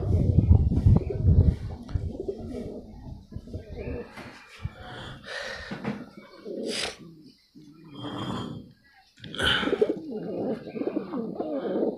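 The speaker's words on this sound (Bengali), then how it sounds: "আজকে আমার পায়রা দুটো বাচ্চা উঠেছে বাড়ির পায়রা" Pairs of domestic house pigeons on a rooftop coo in low, rolling bursts near the recorder, with pauses between them and a person speaking over and between the calls.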